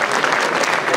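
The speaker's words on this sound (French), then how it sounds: "on va vous applaudir" Brief burst of steady audience applause at a gastronomy fair in Le Mée-sur-Seine, honouring the Saint-Vincent wine brotherhood, dense clapping from a crowd throughout.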